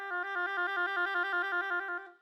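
A wind instrument trills on F with a first-finger trill fingering, one finger lifting and falling quickly. The alternation runs fast and even for about two seconds, clear and close, with no talking.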